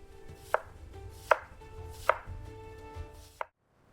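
An onion is chopped into even pieces with a knife on a cutting board: four distinct, sharp knife strikes spaced roughly evenly, close and clear against a quiet kitchen hum, with no talking.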